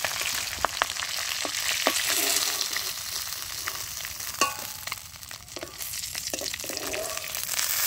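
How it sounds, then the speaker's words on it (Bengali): Pond fish frying in hot oil in a village outdoor kitchen, a broad hissing sizzle running throughout, with occasional clinks and scrapes of a turning utensil close by, and no talking. "সব মাছগুলো ভাজা হয়ে গেছে, তুলে নেব।"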